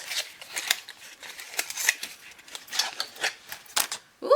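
A foundation makeup box with a sleek pump bottle is opened: quick papery crinkles, snips and rustling bursts come close and fairly loud. They end in a brief higher-pitched squeak.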